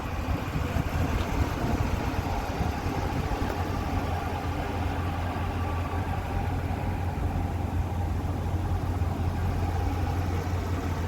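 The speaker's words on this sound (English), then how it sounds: "Engine runs smooth. No strange noises from the engine compartment." A 1985 Chevrolet C10 Silverado pickup engine running smoothly, a steady low idle hum heard alone at moderate level with no change in pace.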